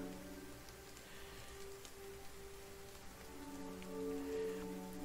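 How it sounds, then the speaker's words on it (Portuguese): Steady rain falls across a video game survival landscape in Rules Of Lands, a dense continuous patter on surfaces with a low ambient drone beneath and no voices. "Agora tá chovendo"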